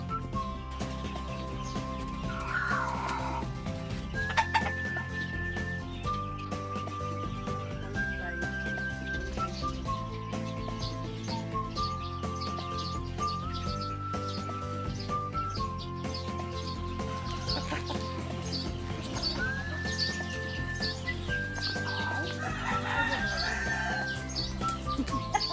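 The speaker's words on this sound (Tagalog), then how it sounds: "Yung ARL na brood hen." An ARL gamefowl brood hen clucks softly amid a yard of chickens, with repeated low clucks, chirps and occasional crowing in the background throughout.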